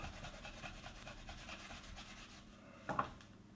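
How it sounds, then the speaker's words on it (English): Wax being rubbed hard off a table surface by hand: a steady, close scrubbing rasp that runs continuously, ending with a couple of sharper knocks near the end. "The harder you rub, then obviously the more wax comes off."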